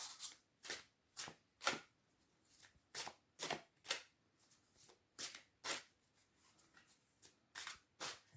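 Oracle cards are shuffled by hand for a card reading: about eighteen crisp, close riffling bursts in a loose, steady rhythm, separated by brief quiet gaps, with no talking.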